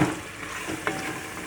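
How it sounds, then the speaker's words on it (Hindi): Meat frying in a pot with cumin and coriander powder for a chana dal gosht curry, a soft steady sizzle with a brief stir around the middle, heard close and alone. "गोश्त हमारा भुन रहा है।"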